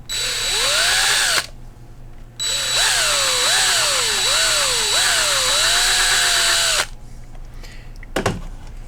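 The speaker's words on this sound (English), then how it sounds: "I take this drill bit here and I just drill these out to where they're the same size as the standoffs" Power drill boring out holes to standoff size on a Kraken 5 drone frame, a loud whining motor that rises and dips in pitch in repeated bursts, with a short pause, then a clunk at the end.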